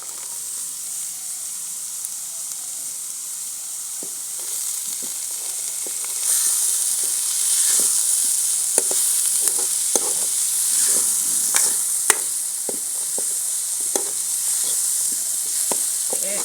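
Chickpeas fry in roasted masala in a pan for village-style chana masala chaat. A steady hiss and sizzle runs throughout, with a spatula scraping and tapping at irregular intervals.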